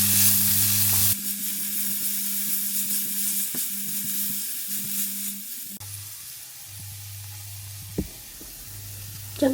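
Garlic and shallots sizzling in hot oil in a wok, with black beans, stirred steadily; a constant close hiss of frying with spatula scrapes, under a low steady hum.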